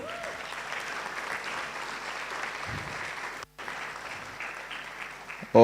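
A crowd claps for an award recipient at a cybersecurity graduation ceremony, moderate sustained applause that cuts out briefly near the end before resuming, with no talk over it.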